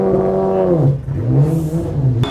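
A BMW race car from the TUDOR United SportsCar Championship at Road America, its engine revving loud and close, pitch sweeping down and back up before rising sharply at the end.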